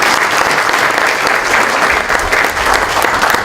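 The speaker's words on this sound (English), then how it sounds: "So let's give them a big round of applause." A conference audience at a MobileCON 2013 panel on mobile services breaks into loud, sustained applause, dense clapping filling the room steadily with no talking over it.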